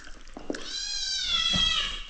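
A cat gives one long, drawn-out meow, close and clear, rising and holding before trailing off, with a few faint clinks before it.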